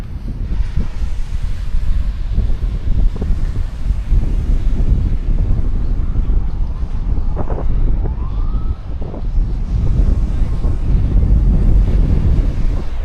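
Ocean surf and gusting wind at Dewey Beach, Delaware, a steady broad roar with heavy wind buffeting on the microphone throughout, no talk.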